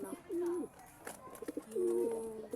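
Pigeons, a blue bar among them, coo nearby in two soft, throaty rolling phrases separated by a brief pause, with faint background noise and no clear talking over them.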